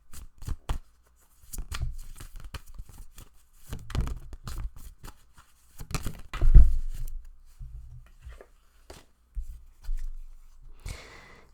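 Tarot cards shuffled by hand for a pick-a-card reading, giving soft repeated riffling and flicking bursts with brief pauses and occasional thumps, close and fairly quiet, with no talking.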